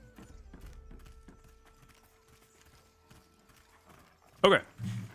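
Horse hooves clip-clopping in the video game Pantheon, a steady rhythmic trot of moderate loudness, followed near the end by a short louder whinny-like burst.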